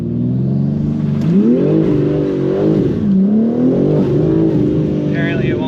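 A BMW M3 fitted with a BMS intake accelerates from inside the car, the engine droning loudly and rising in pitch through the gears, with a steady close roar throughout.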